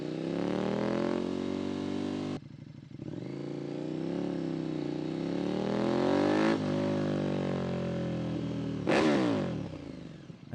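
A KTM Super Duke 1290R motorcycle revs loudly and close, its engine note rising and falling in a series of sustained pulls with sharp throttle blips and no talk.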